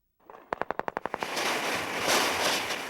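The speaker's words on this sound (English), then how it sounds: "The sounds of heavy machine gun fire and explosions in what could be a small Iraqi village." A rapid burst of about a dozen sharp gunshots, then a sustained loud roar of heavy machine gun fire and rumbling explosions filling the rest, in a small village.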